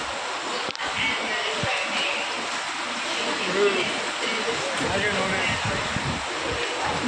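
Heavy rain pours steadily at a railway station near Kuala Lumpur, a dense continuous hiss with a few faint knocks and thumps in it.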